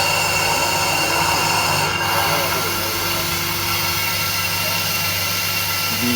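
A turbocharger spins on a test rig in a steady, loud mechanical whine and rush of air, holding constant throughout with a faint tonal hum underneath.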